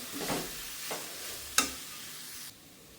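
Soaked flattened rice being stirred and tossed with coriander leaves and lemon juice, a few quiet scraping stirs followed by a short sharp clink, close and soft with no voices.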